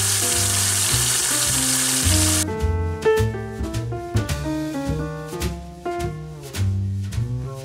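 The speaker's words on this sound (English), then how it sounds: "I could go ahead and put the roast in, so I'm gonna go ahead and do that" Pot roast sears in an Instant Pot with a steady, fairly loud sizzle for about two seconds, then stepping tonal music takes over and masks it.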